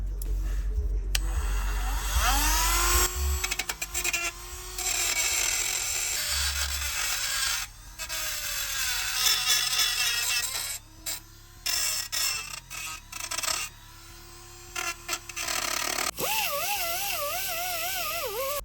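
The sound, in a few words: power tool sanding paint off Jeep Patriot trailing arms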